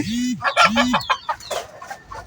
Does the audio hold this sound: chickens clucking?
yes